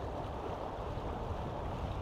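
A 3.8 meter RIB with a Mercury Avator 7.5e electric outboard runs at wide open throttle against the wind, carrying two people: a steady rush of wind and water noise with hull splashing, no voices.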